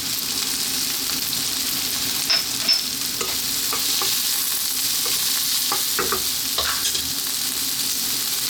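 White cabbage and broccoli for curried fried rice sizzle steadily in a hot pan, with a scatter of scraping stir strokes and clinks breaking over the constant frying hiss.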